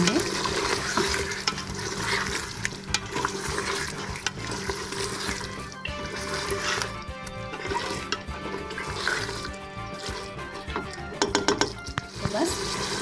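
Chicken frying with ketchup in a pan sizzles loudly and steadily while a utensil stirs and scrapes against the pan in uneven bursts, with a low steady hum underneath.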